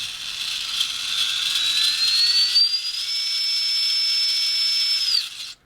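An RC crawler's motor and gearbox whine loudly up close, the pitch sweeping upward and holding steady for several seconds before abruptly winding down to silence.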